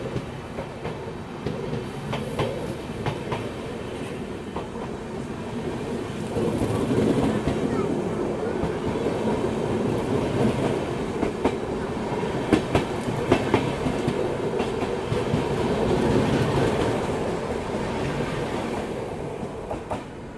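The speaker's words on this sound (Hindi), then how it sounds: "इंदौर नागपुर त्रि शताब्दी एक्सप्रेस" Indore-Nagpur Trishatabdi Express train overtaking on a parallel track, a steady loud rumble with clickety-clack of wheels over rail joints running throughout, heard from inside a moving train, with faint voices.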